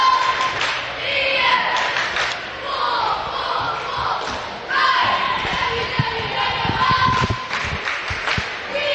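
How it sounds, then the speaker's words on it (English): Davis High School cheerleaders chant a fierce, fight-themed cheer at a girls' regional basketball game, their shouts ringing through a gym over steady crowd noise, with thumps of stomping or a bouncing ball scattered throughout. "Very telling cheer by the Davis High School cheerleaders."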